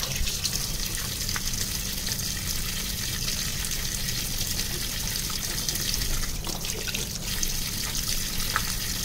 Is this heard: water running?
yes